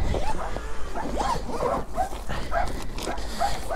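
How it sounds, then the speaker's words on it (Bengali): A pet dog barks and yips repeatedly at home, a close, irregular run of sharp barks with whimpering between them. "কুত্তা একটা আছে বাসায়"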